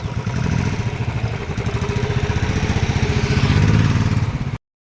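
A motorcycle engine chugs close and loud in a fast, even pulse, rising slightly in strength before cutting off abruptly near the end.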